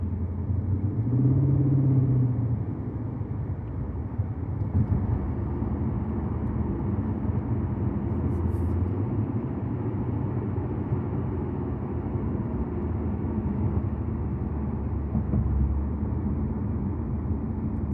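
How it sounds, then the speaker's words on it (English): A steady, low V8 engine rumble from a Lexus IS500 with road and wind noise, continuous and fairly loud throughout, like a car driving along. "The V8 sounds amazing."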